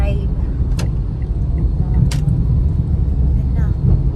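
A car driven by a learner driver gives a loud, constant low rumble of engine and road noise from inside the cabin, with a couple of sharp brief clicks over it.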